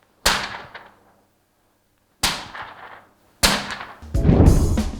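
Movie-style gunshots imitated with a pencil and paper: three sharp, loud cracks with short decaying tails spaced about a second apart, the last followed by a brief noisy burst.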